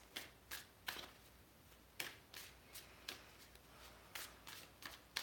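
Tarot cards being shuffled by hand: repeated short riffling bursts about every half second, close and quiet, with no talk.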